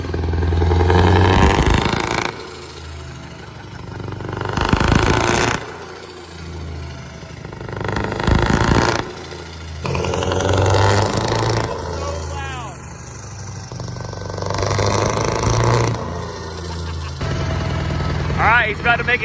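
A massively turbocharged engine with upgraded injectors roars on a dyno in bursts, loud pulls with revving separated by brief drops, while people talk nearby.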